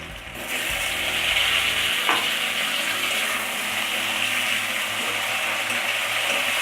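Chopped tomato frying in a pan for a broccoli dish, a loud, continuous close sizzle with a brief stir near the start, no talking over it.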